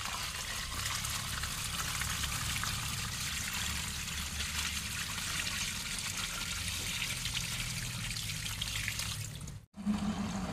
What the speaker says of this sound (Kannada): ಇವಾಗ ಸ್ವಲ್ಪ ನೀರನ್ನು ಹಾಕಿದರು, ಸರ್ಫ್ ನೀರನ್ನು